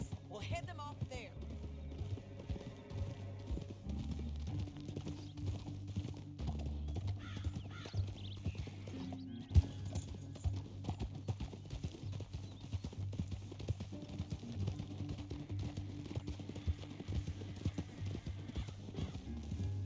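Horses walking in Red Dead Redemption 2, their hooves clip-clopping in a steady plodding rhythm with an occasional snort, under a music bed and scattered game sounds.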